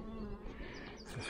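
Honey bees at a beehive in spring, a steady close buzzing drone heard alone for a brief moment.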